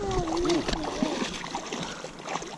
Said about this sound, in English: Let's put him in the water